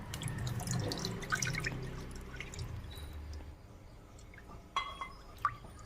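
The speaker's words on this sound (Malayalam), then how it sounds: "ഒരു കപ്പ് പാല് നെയ്യിലേക്ക് ഒഴിക്കാം" Milk is poured into hot ghee in a pan, splashing and pouring in uneven bursts at first, then thinning to quieter scattered drips and a few small clinks, close by.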